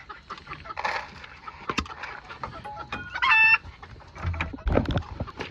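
Old English Game Bantam chickens, a young BB Red pair, cluck and call up close in a barn, with a short crowing burst in the middle among scattered scratching and rustling.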